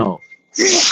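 A single sharp sneeze bursts out loud and close after a stretch of near silence, with people talking just beforehand.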